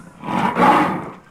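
Mammoth roar from a Minecraft animal mod, a single loud, drawn-out bellowing roar that swells in the middle and fades, heard alone with no talk.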